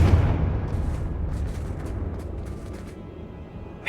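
Confringo spell explosion in the video game Hogwarts Legacy: a loud, close blast that becomes a broad rumbling roar and fades slowly over several seconds, with no talking.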